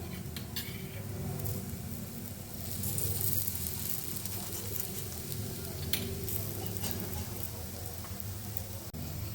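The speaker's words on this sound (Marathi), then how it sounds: "खालची बाजू पण आपण अशीच भाजून घेऊया थोडं तेल घालूया वरून" Kothimbir thalipith, a coriander flatbread, frying in a little oil on a pan gives a continuous close sizzle, with a few faint utensil clinks along the way.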